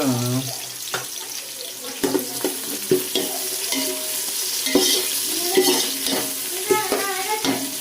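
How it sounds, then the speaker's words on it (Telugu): Onions and green chillies fry in oil for mutton biryani, a steady sizzle broken by repeated scraping stirs of a spoon in the pan, close and fairly loud. "ఉల్లిపాయ చూడండి కొంచెం దోరగా వేగింది కదా"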